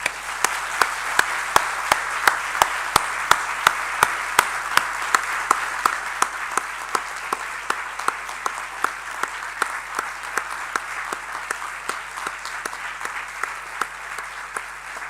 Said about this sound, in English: I think that was a good applause, an emotional one as well